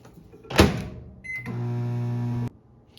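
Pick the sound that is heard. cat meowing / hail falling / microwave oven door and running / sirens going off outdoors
microwave oven door and running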